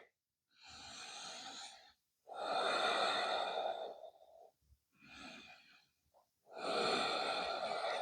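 Slow, deep breaths during a yoga flow, in a humble warrior pose: four long, airy breaths close to the mic, each lasting one to two seconds with short pauses between. Nobody speaks.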